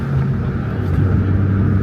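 A supercharged Chevrolet Corvette C5 Z06 with a cat-back exhaust accelerates hard, its engine a loud, steady, deep droning roar that holds for nearly two seconds with no talking.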